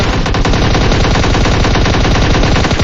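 Dense, rapid automatic gunfire from a PUBG Mobile match rattles loudly and without pause, with overlapping shots running together as sustained bursts throughout.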